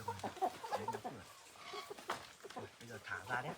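Hungry chickens bought at a market cluck and murmur close by in a repeated, choppy pattern, mixed with quiet talking nearby.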